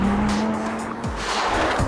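Audi R8 sports car with a 5.2-litre V10 engine, driven hard by a racing driver, its tyres squealing loudly over a roaring engine with quick shifts in revving.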